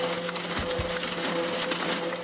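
Steady machine noise from a running offset printing press, with a constant tonal hum and a couple of dull low knocks early on, continuous and unaccompanied.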